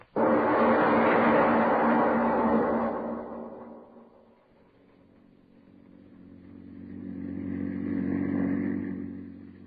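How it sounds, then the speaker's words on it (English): A radio-drama sound effect of a car driving along a country road: a loud engine roar that fades down midway, then swells back as the motor rises again, with no voices. "The publisher and his chauffeur are driving along a country road."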